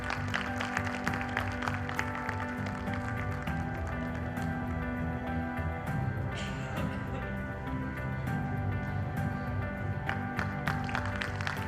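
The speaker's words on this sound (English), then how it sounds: "Please have a big round of applause for them also." A large conference audience applauds steadily with dense, even clapping that holds at a constant loudness throughout, close and full, with no break.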